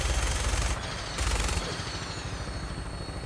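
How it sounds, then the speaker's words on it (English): Automatic gunfire rattles through a Fallout 4 battle, two dense bursts of rapid shots standing out from a constant rumbling background, followed by a steady low drone. "Who's shooting at me?"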